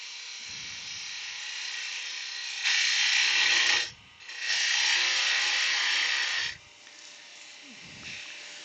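Laburnum wood bowl being hand-sanded with sandpaper, a steady dry hiss in long continuous strokes with brief pauses between passes, close and moderately loud.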